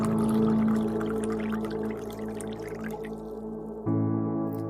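Water pours steadily into a basin, a close, continuous splashing and gurgling stream over a low ringing tone, then tapering off before a sustained tonal hum returns.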